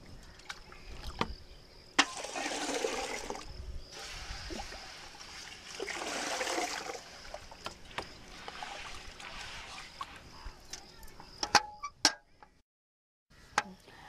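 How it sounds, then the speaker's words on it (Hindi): Seeds being washed in water two or three times to rinse off leftover salt, heard as soft sloshing and trickling in long stretches with a few sharp knocks, close and fairly quiet. "जो नमक के अंश रह गए है और दो तीन पानी से एक धो देवे के ताकि नमक के अंश खत्म हो जाए"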